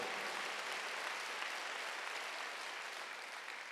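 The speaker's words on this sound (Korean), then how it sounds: "박수로 하세요." A church congregation at a Wednesday worship service claps together in a steady wash of applause, faint and distant, fading slightly toward the end.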